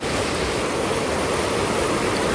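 Floodwater of the Ganges roars past at Haridwar after cloudburst rain, a loud, steady broadband rush of churning water, close and unbroken, with no voices.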